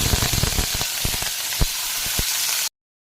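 Potato pieces, just added to hot oil along with okra already frying with green chilli, sizzle loudly in a pan, a dense continuous crackle with sharp pops close up, ending abruptly.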